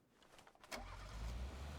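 A car engine in PUBG starts up and settles into a low, steady idling rumble after a few faint clicks, close and fairly quiet, with no talking.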